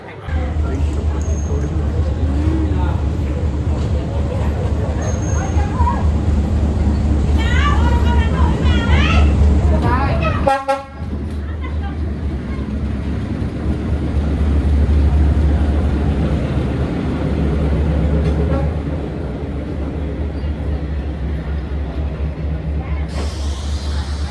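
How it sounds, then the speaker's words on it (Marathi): A train rumbles past about half a foot away, a loud steady low roar with a brief rushing burst midway, continuing for a long stretch. "लिटरली ट्रेन एक अर्धा फुटाच्या डिस्टन्सवरनं चाललेली आहे आमच्यासमोरून"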